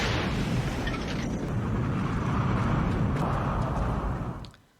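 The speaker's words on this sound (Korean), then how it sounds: "폭발음이 들리고" Dynamite blast down a well in a film scene set on a rural farm: a loud, sustained roaring burst of rumble and debris that holds for several seconds and then cuts off abruptly.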